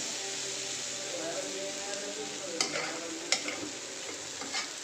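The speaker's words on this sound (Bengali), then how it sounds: "নুডলস রান্না করতেছি" Noodles cooking in a pan for a breakfast make a soft, steady sizzle with a faint low hum underneath, punctuated by a few sharp utensil taps and scrapes, heard nearby.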